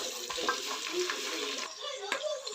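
Chopped onions and curry leaves sizzle and hiss in hot oil while a spoon stirs and scrapes the pan, steady and close.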